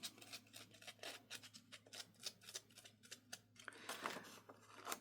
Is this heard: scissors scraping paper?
yes